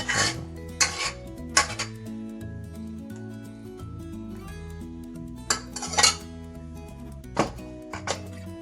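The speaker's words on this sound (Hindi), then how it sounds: "अब हम डिश आउट कर लेंगे।" Cooked bhuna mutton is served out of a metal pot, with repeated clinks and scrapes of a spoon against the pot and dishes over a steady low hum.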